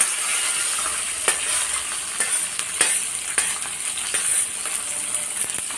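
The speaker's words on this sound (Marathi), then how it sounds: "आणि छान ब्राऊन कलर येईपर्यंत आपल्याला कांदा तळून घ्यायचा आहे." Onion and green chili frying with curry leaves over a medium gas flame, a constant bright sizzle with scattered clicks of a spoon against the pan, no talking.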